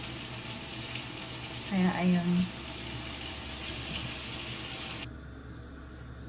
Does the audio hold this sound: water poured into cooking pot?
yes